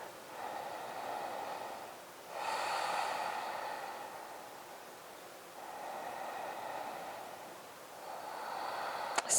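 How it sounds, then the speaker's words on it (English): Slow, deep breaths during a yoga stretch, close and soft, with long airy inhales and exhales rising and falling in a calm rhythm, then a faint rustle at the end. "Let's take another deep breath or 2 right here."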